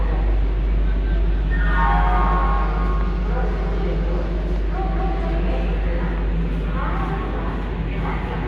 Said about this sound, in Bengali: নির্ধারিত সময়ে সকাল 6:45-এ ছেড়ে দিল আমাদের ট্রেন হাওড়া থেকে দীঘার উদ্দেশ্যে